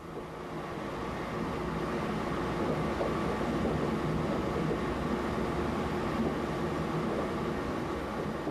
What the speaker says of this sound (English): Late in the afternoon, the train crosses a causeway, and you're there.